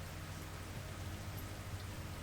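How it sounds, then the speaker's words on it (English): Steady rain pours down in the video game Kitaria Fables, an even wash of hiss with no breaks and no voices over it, held at a low, soft level throughout. "Lovely rainy weather."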